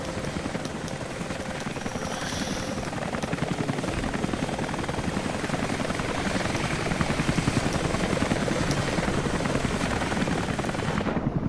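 Helicopter in a video game flying close and loud, its dense rotor chop running steadily throughout with a broad engine roar and no talk over it.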